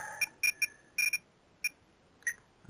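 A timer beeps in short electronic bursts at a model aircraft grass field, with a quick run of beeps, a pause, then a few single beeps, clear and alone.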